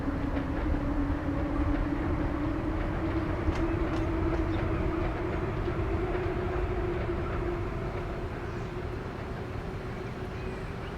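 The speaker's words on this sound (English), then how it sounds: "There's the passenger train coming in." Passenger train running in the video game Transport Fever 2, a continuous rumbling roll with a steady tonal hum and light rail clatter, loud and close, easing slightly toward the end.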